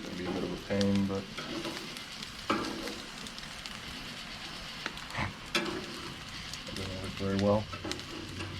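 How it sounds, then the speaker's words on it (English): Bacon crisps in a pan at an outdoor cook of freshly caught rattlesnake, a steady close sizzle and spit of frying fat, with occasional stirring scrapes and a person talking over it. "We pretty much just wanted the bacon to crisp up a little bit here."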